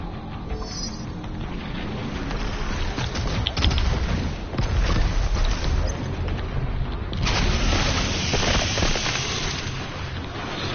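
Repeated frag grenade blasts and heavy combat booms in the video game Doom Eternal, a loud continuous barrage of explosions and gunfire with a denser burst near the end.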